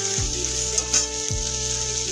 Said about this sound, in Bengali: বিনস আর আলুটাকে কিন্তু এখন 5 মিনিটের মতো একটু লবণ হলুদ ছাড়া এটাকে হালকা ভাজা করে নেব